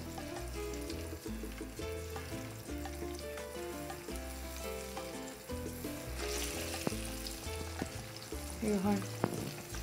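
Plantain canoas fry in a small frying pan, with a steady close sizzle and crackle while pieces are shifted and turned, and a brief remark spoken over it.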